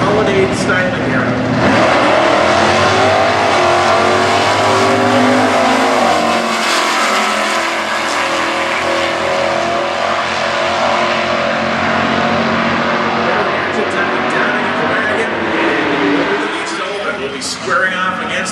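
Stock class drag race between a Pontiac Grand Prix and a 1988 Fox Body Mustang, engines revving loudly then roaring off the line in a sustained, rising pass, with an announcer talking over the noise.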